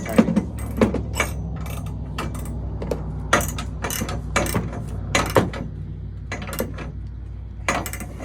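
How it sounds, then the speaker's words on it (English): A ratchet tightens the bed support bolts on a 2009-14 Ford F-150, giving a steady run of close, crisp clicking strokes with brief pauses and no talking. "So once you have it into place, you can start tightening."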